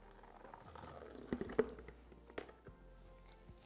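Coolant drains from the drain bolt of a Yamaha YZ125 two-stroke dirt bike, a faint trickle with a few soft drips and splashes close by in a quiet workshop.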